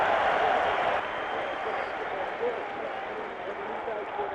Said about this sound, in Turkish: Alkışlar Zidane'a.